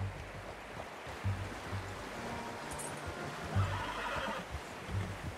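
A horse in the video game Red Dead Redemption 2 gives a whinny amid outdoor ambience, with soft hoof-like thumps and a rushing, water-like background, fairly low in level.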